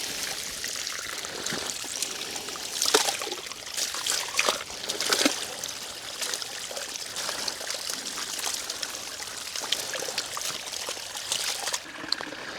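Water trickles and dribbles steadily nearby, with a few louder splashy bursts along the way.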